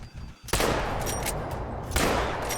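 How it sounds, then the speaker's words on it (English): Two loud, broad gunshot blasts in a hunting video game, fired at a pheasant, one near the half-second mark and another about a second and a half later, each followed by a long, booming reverberant tail. "First shot was no good, but the second shot definitely smoked him"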